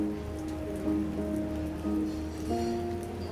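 Rainfall in the video game South of the Circle: a steady, soft patter of rain runs throughout, with sustained tonal music notes layered over it and no voices.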